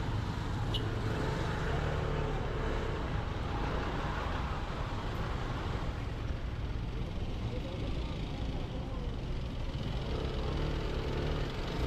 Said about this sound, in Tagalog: Haba ng traffic mga kabayan